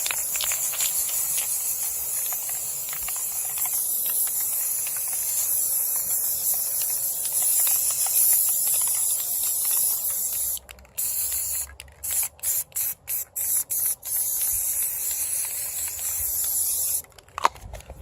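A can of black spray paint hisses close and loud in a long continuous burst, then gives several short, choppy sprays before a final steady stretch, used for cheap spray art.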